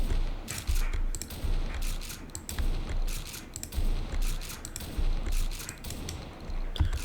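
Rapid gunfire from a weapon in the TACZ video game comes as repeated bursts of booming shots with short gaps between them, loud and close, with mechanical clatter between volleys.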